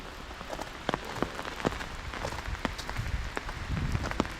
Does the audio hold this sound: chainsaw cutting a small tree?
no